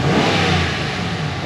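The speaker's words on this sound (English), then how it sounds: "Gonna give it the old Italian tune-up, restarting the engine." A dual-spark Hemi engine revs hard and loud with a steady roaring drone, held high for the whole moment with no voices over it.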